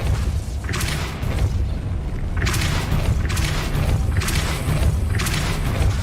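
Depulso force spell cast during Hogwarts Legacy gameplay, several loud booming bursts recurring every second or so over a steady low rumble.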